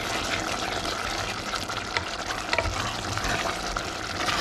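Pork belly caramelizing with brown sugar in a pan sizzles and fries steadily, a dense continuous crackle that holds close and fairly loud throughout, without any talking.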